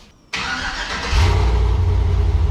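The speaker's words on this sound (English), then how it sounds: "Little chop, chop, chop, chop, chop, chop, cold start." An LS-swapped S-10 truck engine cold-starts after a brief quiet moment, catching abruptly and then settling into a loud, steady, low choppy idle that runs close and alone to the end.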